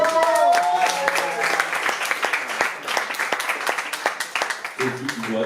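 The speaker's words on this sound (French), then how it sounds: "En particulier Noël, un tonnerre d'applaudissements." Audience applause at a slam poetry evening in Nice, steady clapping from a live crowd that fills the room for several seconds before someone speaks near the end.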